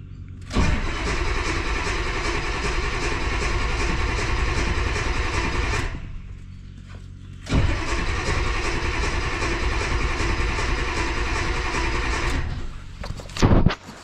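A car engine cranks in cold weather of around 40 degrees and fires off, running loudly and steadily, then cuts out briefly before restarting and idling on, with a short burst near the end.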